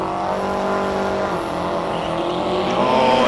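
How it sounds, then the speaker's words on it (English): A Subaru Impreza race car powers up a hillclimb course, its engine a loud, steady, full-throated drone held close throughout with slight rises in pitch and no voices over it. "Oh, that's a big sounding car as well. That's Tanya Watts in the Subaru Impreza."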